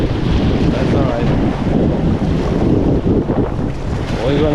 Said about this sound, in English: It's still a bit windy, so that's alright.